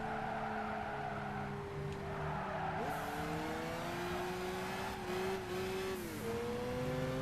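A car engine in the Gran Turismo 5 racing game drones and revs, pitch climbing then dropping sharply at gear shifts a few times, with faint tire squeal in the mix.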